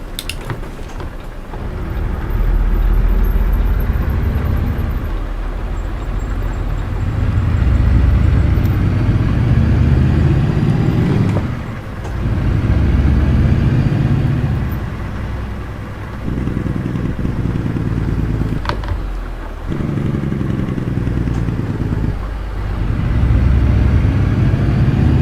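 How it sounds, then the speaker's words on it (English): Modded Mack truck engine in American Truck Simulator rumbles loud and steady with deep low-end drone, briefly dipping in a few short gaps as revs change, no talking over it. "Have they given the Mac like a modded engine so it sounds even more beastie?"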